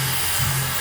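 A hair dryer blowing out a man's beard, a steady loud close whoosh with a low motor hum and a slight wobble as the airflow shifts.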